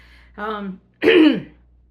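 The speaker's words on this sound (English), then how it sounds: "I clear my throat a lot." Two rough throat clearings in a row, close and fairly loud, a short pause between them, with no talking.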